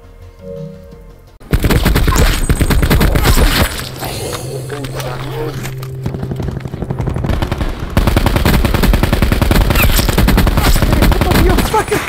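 Rapid, loud automatic gunfire in Call of Duty Black Ops 4 Blackout on the Alcatraz map, fired in long sustained bursts after a quieter opening, with a shouting voice mixed in.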